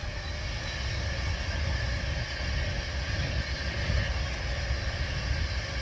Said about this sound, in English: I do apologise for that noisy train.